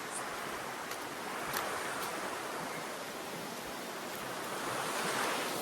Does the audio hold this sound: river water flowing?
yes